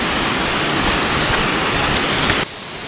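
A small waterfall at Mallanna Gandi reservoir pours in a steady, loud, broadband rush of falling water, heard close with no voices.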